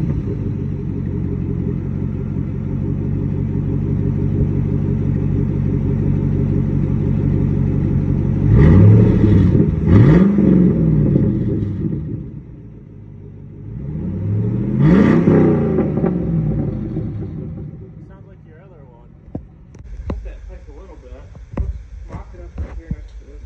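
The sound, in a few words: Yukon engine revving with no muffler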